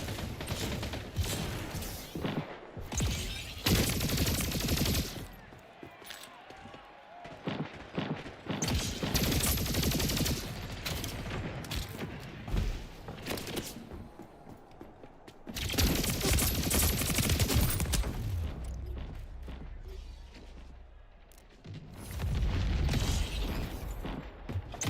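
Gunfire and rocket launcher blasts from the Splitgate 2 video game come in dense, loud bursts and booms, broken by short quieter gaps.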